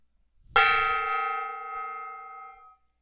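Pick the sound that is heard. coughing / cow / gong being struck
gong being struck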